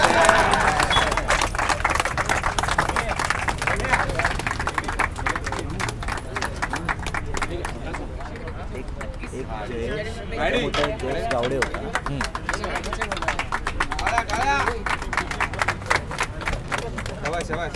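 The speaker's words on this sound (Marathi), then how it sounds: "माझ्यासाठी सगळ्यांनी जोरदार टाळ्या वाजवा." Loud, dense clapping from a crowd at a prize ceremony, applauding the owner of the sponsoring paint company, continuing steadily under a voice talking throughout.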